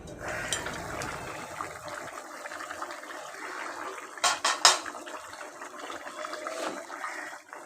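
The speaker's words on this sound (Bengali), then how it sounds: "এবার জল দিয়ে ঢাকনা দিয়ে দিব।" Water poured into a simmering pot of fig and shrimp curry, then a lid clatters on with a few sharp metallic clinks, close up and without speech.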